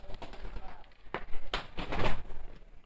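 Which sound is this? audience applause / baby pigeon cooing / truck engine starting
baby pigeon cooing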